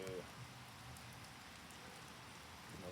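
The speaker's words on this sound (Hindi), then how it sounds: "ज़बरदस्त बारिश हो रही है जी।" Heavy rain pouring down steadily in Riyadh during the evening, a dense, even wash of falling water with no breaks, fairly quiet overall.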